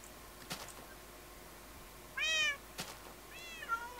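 An ocelot in Minecraft meows twice, two short, clear calls over quiet background noise, with a few soft clicks and no talking.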